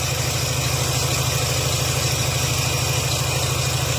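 A car engine idles steadily and close by after an ignition coil swap following burnt-out spark plugs, a continuous even rumble with a fast, regular pulse and a faint hiss, with no talking.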